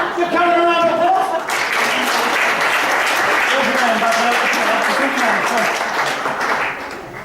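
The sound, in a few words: audience applause for a volunteer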